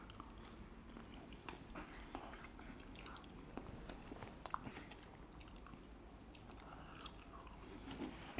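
Biting and chewing grilled shish tawook chicken from a street grill restaurant, faint and close, with soft irregular mastication sounds and occasional small crunches over low background noise.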